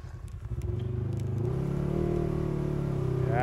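Snowmobile engine revving up as it starts to move, a steady rising motor drone that builds and holds loud and close, alone without talk.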